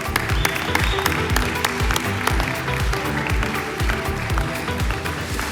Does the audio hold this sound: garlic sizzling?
no